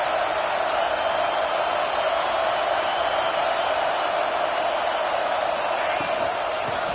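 A steady, dense stadium crowd roar from a college football video game fills the whole stretch at an even level, with no breaks and no clear individual voices rising above it.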